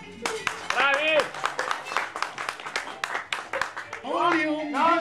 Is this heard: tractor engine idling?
no